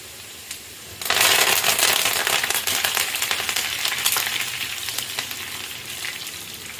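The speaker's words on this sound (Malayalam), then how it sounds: "ഈ സമയം നമുക്ക് കുറച്ച് വേപ്പില കൂടെ ഇട്ട് കൊടുക്കാം." Curry leaves dropped into hot oil with ginger and garlic for carrot pickle burst into a loud, steady sizzle after a second of quiet, crackling close up and slowly easing off.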